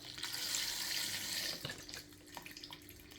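A kitchen tap runs water into a pot for leftover soup, a close and steady gush that is cut off partway through, with a few small clinks and drips after it.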